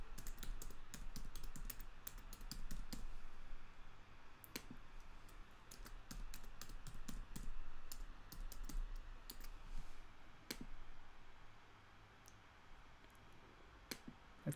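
Irregular, close clicking of computer keyboard keys as a user ID and password are entered to connect to an Azure cloud virtual machine from a Mac, with sharper taps scattered throughout and no talking.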